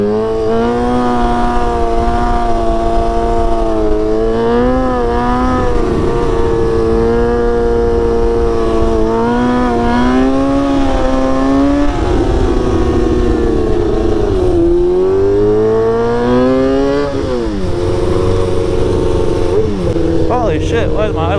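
A stunt motorcycle idles abnormally high, holding a loud, steady, buzzy engine tone that drifts up and down slightly in pitch, with outdoor background noise throughout.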